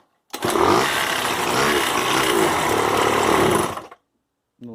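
Honda Dio AF27 scooter engine running rough with a rapid knocking rattle, a loud buzzing burst lasting a few seconds before it cuts off abruptly.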